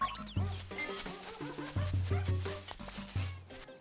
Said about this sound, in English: like having the notes made out of woofs and barks and meows and that sort of stuff